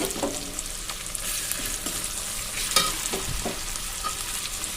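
Onions and green chillies frying in a pan for egg-free vegetarian chow mein: a steady, close sizzle with scraping stir strokes and occasional louder spatters, no voices.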